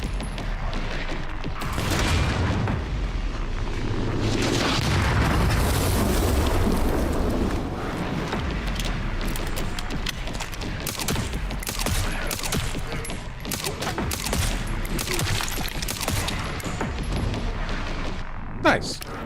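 Loud, dense booming blasts and rumbling impacts from mortar fire in the survival horror game Resident Evil Requiem, rolling continuously with layered explosions and debris under chaotic game noise.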